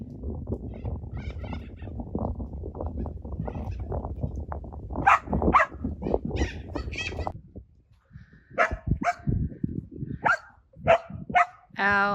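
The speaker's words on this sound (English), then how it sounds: "Excuse that dog barking in the background." A dog barks repeatedly on an Australian homestead, sharp and fairly close, in short bursts that continue after the earlier stretch of low rumbling background noise.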